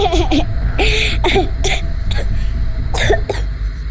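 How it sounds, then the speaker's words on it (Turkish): Several harsh coughs come in quick bursts, mixed with breathy laughter-like sounds, loud and close. "güldüğümde öksürüyorum"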